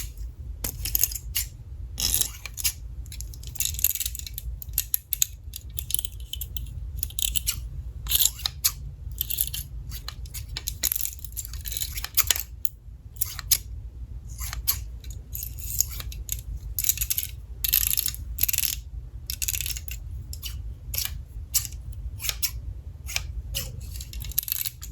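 Scissors snip hair in a close, intimate haircut roleplay: quick, crisp, repeated cuts in a steady rapid rhythm over a low background hum, with no talking.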